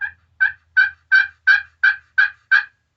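A glass turkey call worked with a carbon striker gives eight evenly spaced, high-pitched yelps in a steady rhythm, close and clear with nothing else over it.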